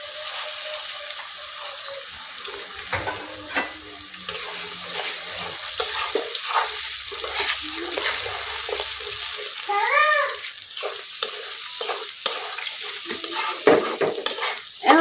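Eggs sizzle steadily in oil in a wok in a village kitchen, with a spatula scraping and stirring now and then; the frying hiss runs continuously, close and moderately loud.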